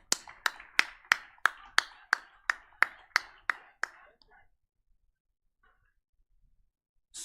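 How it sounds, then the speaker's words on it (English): Crisp, rhythmic unison clapping during a Model UN closing ceremony: roughly a dozen sharp claps in an even beat over about four seconds, then quiet with only faint stray noises. "a huge round of applause, guys."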